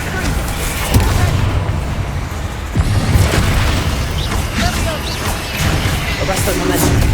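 A Propender spell is cast in Hogwarts Legacy amid a spell-heavy fight, with booming blasts and bursts at irregular intervals over a dense, rumbling battle background.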